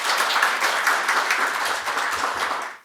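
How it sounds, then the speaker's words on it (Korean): A seated audience at a bioenergy forum held at the National Assembly gives a dense, loud burst of applause to welcome the next speaker, continuous clapping that stops abruptly near the end. "큰 박수로 환영사 듣겠습니다"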